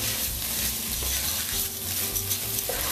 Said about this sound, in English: You can see I'm mixing it all up,